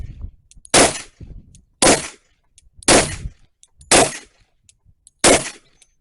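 Five sharp, loud gunshots from a Rock Island Armory Tac FS HC 10mm pistol at an outdoor range, fired singly at roughly one-second intervals, each with a brief ringing tail and faint background noise between.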